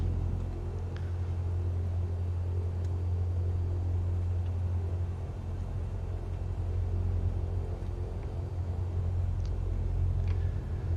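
A Cessna taxis from the ramp toward runway 11 at Little River in Microsoft Flight Simulator, its engine a steady, low droning rumble at idle. The rumble is constant and unbroken, with no voices.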